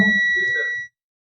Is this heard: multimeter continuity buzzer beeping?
yes